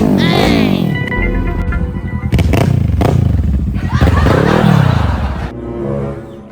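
A motorcycle engine revs up and down close by in repeated surges, with a clunk and a rattle between throttle bursts, while people talk over it.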